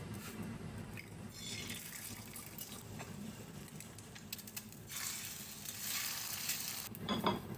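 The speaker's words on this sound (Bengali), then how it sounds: "মুসাইফার জন্য একটা ডিম ভাজি আর একটা ব্রেড দিয়ে দিব।" An egg fries in a pan for a school tiffin breakfast, giving a soft, low-level crackling sizzle with patches of sputtering pops and light scraping, close and quiet with no voices.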